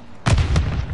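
A single grenade detonates in a PS4 shooter, a sudden close, loud blast a quarter second in that decays into a rumbling tail, with no voices over it.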